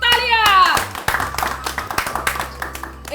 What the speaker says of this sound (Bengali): তালিয়া।